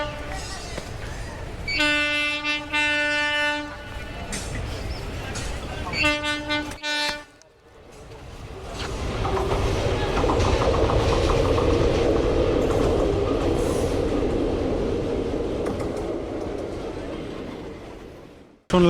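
A train sounds two long harmonic horn blasts, then rumbles loudly through Jagati railway station in Kushtia, Bangladesh, with rolling wheels and a steady roar that builds and holds.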